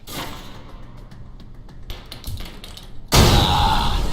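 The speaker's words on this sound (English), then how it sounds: "Try and chuck one beneath the truck and take out the gas tank" A grenade in Alpha Protocol detonates a truck's gas tank, bursting suddenly into a loud, sustained roar after a few seconds of quiet thuds and taps.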